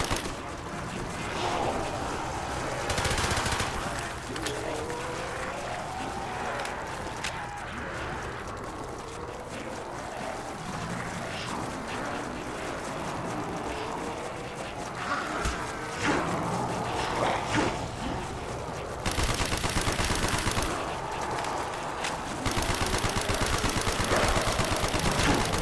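Steady gunfire from a slow-firing weapon with odd recoil in the Kino der Toten zombies map of Black Ops 3, heavy continuous shots under a dense layer of game noise across the whole span.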